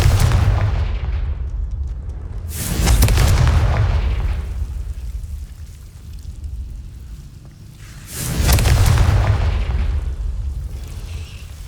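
Confringo spell blasts in Hogwarts Legacy, two loud booming explosions several seconds apart, each with a sharp crack and a rumbling low tail fading into a quieter hum between them.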